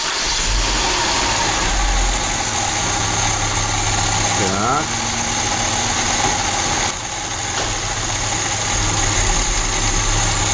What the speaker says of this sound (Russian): Так что, ну, заводим машину, пожалуйста. Так, теперь нам интересует система холостого хода.